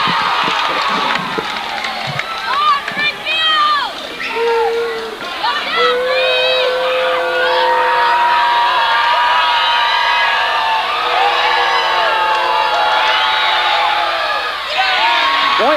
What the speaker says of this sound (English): I can hear the crowd down here. And I'll tell you, getting awful noisy.